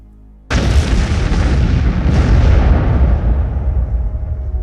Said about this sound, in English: And then, the bomb goes off.